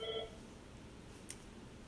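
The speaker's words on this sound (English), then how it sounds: "Ignore the phone." Short burst of stacked telephone dialing tones at the start, a handful of quick beeps up front, followed by quiet room hiss and a faint click.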